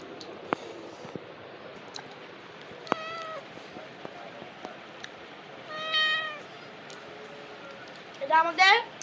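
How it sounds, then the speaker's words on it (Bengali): A house cat meows several times, short calls and a longer drawn-out meow near the end, close by, with some light clicks and household sounds between them. "এটা আমাদের বিড়াল।"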